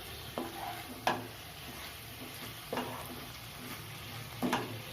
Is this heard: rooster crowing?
no